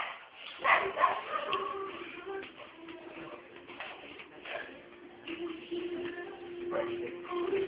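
Two dogs, still frightened after a typhoon in Antipolo, give a few scattered barks and whimpers. Soft cooing of birds and some shuffling noise sit in the background, and the sound is slightly muffled.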